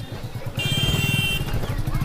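A worn-out motorcycle engine runs close by with a steady throbbing pulse, growing a little louder partway through and holding strong to the end.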